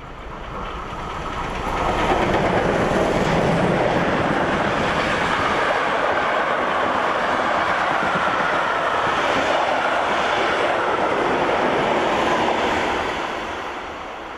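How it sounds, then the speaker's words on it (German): A steam train rolls past on the railway to Dresden, a loud steady rumble and clatter of carriages that builds up, holds for about ten seconds and then fades. "In Raten passen wir den Zug auf der Rückfahrt nach Dresden ab."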